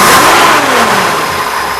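A 1961 Oldsmobile 394 V8 with a Camcraft cam and 1.8 rocker ratio roars loudly up close, revving hard and then easing slightly as it settles.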